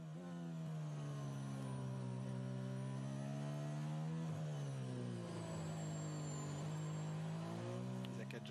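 A Formula 1 car runs an out lap in practice at Silverstone, its engine holding a steady high whine that rises and falls with gear changes and stays loud and sustained throughout.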